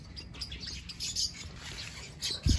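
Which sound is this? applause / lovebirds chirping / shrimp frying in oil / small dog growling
lovebirds chirping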